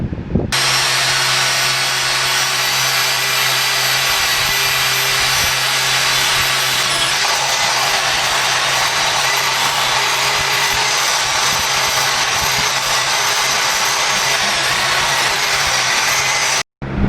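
A cheap Harbor Freight drill fitted with a buffing tool whines steadily and loudly while polishing the exhaust of a 2020 Yamaha MT-09 motorcycle, one continuous run that cuts off at the end.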